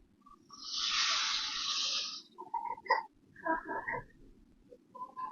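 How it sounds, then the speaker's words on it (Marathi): Hot garlic tempering is poured onto a Malvani mandeli fish curry and sets off a loud, close sizzle lasting about two seconds. Softer bubbling, pops and clinks follow. "आता ही फोडणी घेऊया आपण याच्यावर ओतू"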